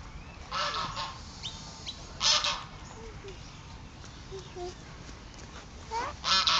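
Geese honk in a park, a few loud calls scattered across a steady outdoor background, with softer honks between them and distant voices faintly present.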